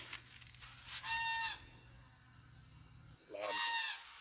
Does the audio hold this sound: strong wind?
no